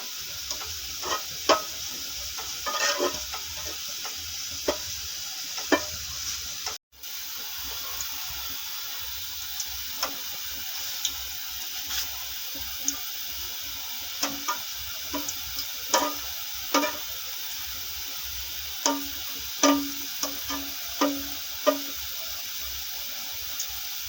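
Four cardamom pods sizzling gently in a pan, a soft continuous frying hiss punctuated by sharp clicks and taps of a utensil against the pan, with one brief dropout early on.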